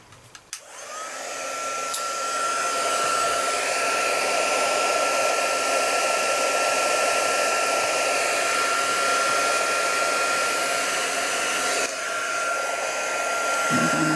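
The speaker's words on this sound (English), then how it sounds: "It's going to get a bit noisy now because I'm going to set my heat tool on." A papercrafting heat tool blowing hot air, switching on with a click and then whirring loudly and steadily, close up, for a long stretch with no talking.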